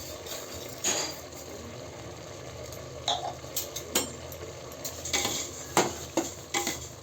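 Spoon stirring sweet rice with spices and sugar in a pot, giving soft scraping and scattered light clinks of utensil against metal, fairly quiet and irregular, with no talking.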